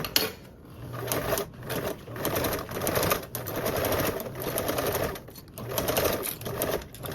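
A Belmont Luxe sewing machine stitches in quick whirring bursts separated by short pauses as the stitch length is changed around a corner. It is close and steady, with no talking.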